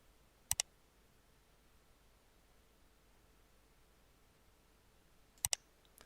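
Two quick double clicks of a computer mouse or keyboard while drafting a floor plan in AutoCAD, sharp and close, one near the start and one near the end with a quiet hiss between.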